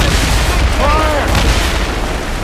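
Heavy naval cannons boom in a snowstorm sea battle in Assassin's Creed Rogue, loud deep blasts rolling over a constant roar of wind and waves, with voices partly beneath the din.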